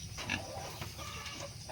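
A small wild boar on a farm grunts in low, repeated snorts at close range, with faint chicken clucks in the background.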